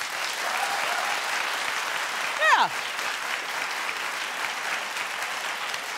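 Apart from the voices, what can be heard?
studio audience clapping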